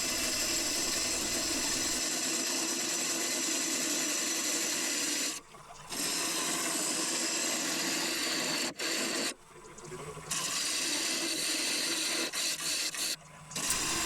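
A turning gouge cuts wood on a lathe while a lidded jewellery box is being turned. The scraping, rasping cut runs steadily and close for several seconds, breaking off briefly a few times as the tool lifts, with no voices.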